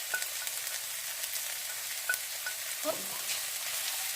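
Onions, garlic and ginger sauté over high heat, a steady fine crackling sizzle with occasional small pops and a short stirring scrape, fairly quiet; a single brief word is spoken.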